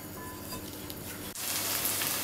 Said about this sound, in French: on va le faire sauter à feu vif 5 minutes